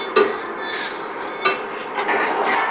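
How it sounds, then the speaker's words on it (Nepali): Coriander and cumin seeds are dry-roasted in a pan for a Nepali cucumber pickle. A spatula scrapes and clinks against the metal at close range, with a few sharp knocks over a soft rustle of seeds. "म चाहिँ मसला भुट्दैछु"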